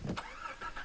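A car engine in the video game Far Cry 3 cranks and catches, a short, quiet burst of starting noise that settles into a faint idle.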